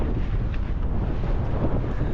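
Cold, damp wind on a winter mountain in the Lake District buffets the microphone in a steady, loud roar with no letup.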